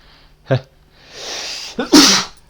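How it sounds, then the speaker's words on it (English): A single sneeze: a quick sharp intake, a brief pause, then a loud explosive burst of breath, close up with no one talking. "I need to sneeze."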